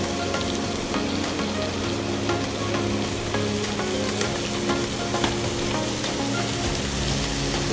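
Mushrooms frying in a pan, a dense continuous close sizzle with stirring scrapes running steadily throughout, no voices.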